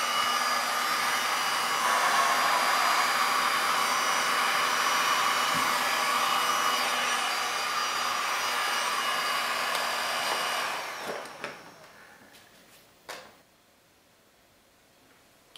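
A steady air blower hisses over a green resin pour, a loud continuous rushing stream for about ten seconds before cutting off, followed by a few faint clicks and handling sounds.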